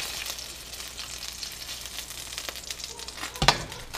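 Meat pieces frying in a pan for chicken chow mien, a low steady sizzle and crackle close by, ending with a brief clatter of a utensil, with no speech.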